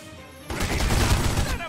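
Rapid gunfire in The Godfather video game, a dense burst of overlapping shots that erupts suddenly after a quiet moment and rattles on for about a second.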